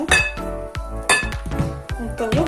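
A whisk beats eggs and sugar for a pumpkin cake batter in a bowl, giving quick, ringing clinks against the bowl's side in an irregular, rapid rhythm, close and fairly loud.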